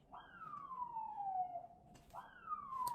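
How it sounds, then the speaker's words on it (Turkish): A wailing siren sweeps down in pitch, cuts off, then starts a second wail, heard moderately distant with no talking. "Bak duyuyorsun ambulansın sesini değil mi?"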